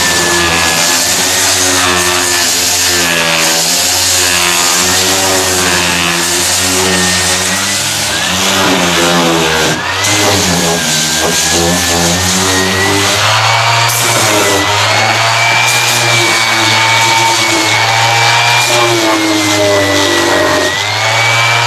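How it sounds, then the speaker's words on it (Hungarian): An orbital sander working over carved wood for a kopjafa, a loud continuous buzzing drone with shifting pitch as it moves across the surface, running steadily throughout. "akkor én nagyon szeretem ezt a rezgőcsiszolót"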